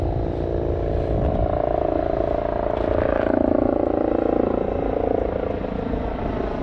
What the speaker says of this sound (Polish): Helikopterek leci.